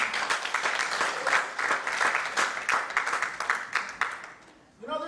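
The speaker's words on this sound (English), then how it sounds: "let's give the Lord a hand clap of praise right now" A church congregation claps in praise during a sermon, a lively, dense round of hand claps with a few rhythmic peaks, fading out near the end as a voice begins.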